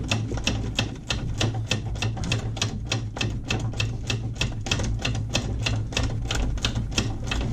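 An 11mm socket on a ratchet undoing suspension nuts on a Triumph Spitfire 1500, a fast, even run of close, crisp ratcheting clicks with a constant low hum underneath.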